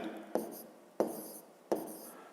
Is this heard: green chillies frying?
no